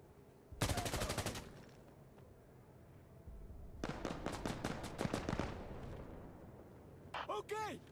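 Gunfire from Insurgency: Sandstorm: a quick burst of rapid automatic shots, a quiet pause, then a longer, uneven string of sharp cracks, followed by a final short burst near the end, all fairly quiet overall.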